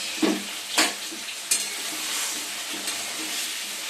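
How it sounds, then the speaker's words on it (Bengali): Chicken frying in a kadai while a spatula stirs it, a continuous close sizzle broken by several sharp metal scrapes and clacks of the spoon against the pan. "অল্প অল্প করে ভেজে নিচ্ছি"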